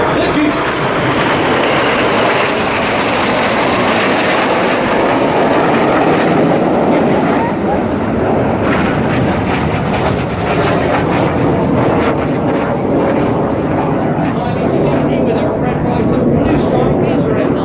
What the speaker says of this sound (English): There's a lone jet and it's Red 9, who's now going to fly the Goose.